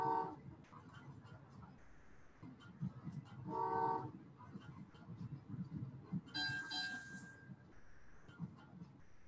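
Trains run in the video game Train Valley 2, with rumbling rail noise and a few short horn toots spread over about nine seconds.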